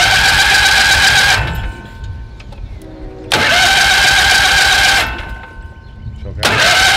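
A 20hp Kohler Magnum engine on a Simplicity Sunstar garden tractor is cranked by the starter in loud, close bursts, three separate attempts separated by short pauses, without firing into a steady run.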